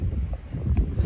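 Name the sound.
wind blowing at the beach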